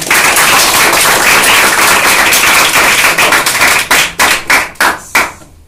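A classroom audience claps together at a kids' computer hardware lesson, loud dense applause that thins into a few separate claps before stopping.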